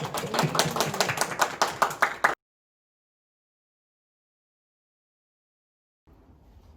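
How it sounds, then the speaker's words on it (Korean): Congregation clapping at a youth church service: rhythmic, evenly spaced claps from a group with voices over them, lasting about two seconds before abrupt silence, then faint room sound. "영광의 박수 올려드립니다"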